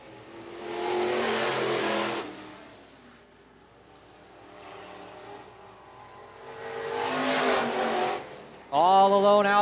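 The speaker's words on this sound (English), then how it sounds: "Car looks mighty fast along the low side of the racetrack, does Danny Kotsman." Sport mod race cars roar past on a dirt track at a county raceway, engine noise swelling and fading in two distinct passes, with a louder burst of engine noise at the end.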